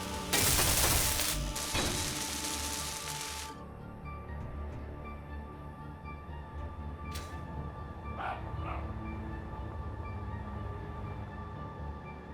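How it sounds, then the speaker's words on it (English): A video game cow from a critter mod gives a dog-like bark, a loud burst at the start followed by a few fainter yips later over steady background noise. "That is a cow that is barking, apparently."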